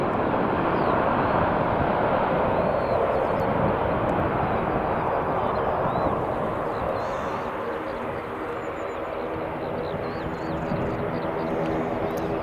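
A WestJet Boeing 787 Dreamliner lands at Edinburgh Airport with a broad, sustained jet roar that holds steady and loud, easing slightly before swelling again as the airliner rolls out after touchdown.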